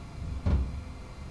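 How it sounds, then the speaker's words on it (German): Doors of a Class 395 train closing in the TramSim simulator game, a single short, muffled low thud with a soft whoosh, heard alone over a quiet background hum. "Machen wir mal die Türen zu wieder."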